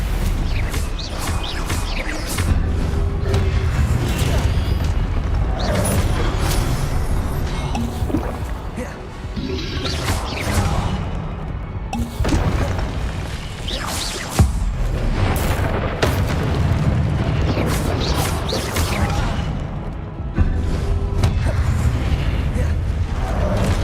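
Blasting spell explosions in Hogwarts Legacy, a dense run of loud, repeated booms and crackling bursts over a busy game soundscape across the whole stretch, with a voice casting spells between them.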